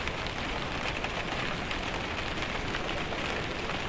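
Steady rain falls on a cold, wet October day, a dense even hiss of drops on surfaces that holds without a break, moderately loud and close, with no voices.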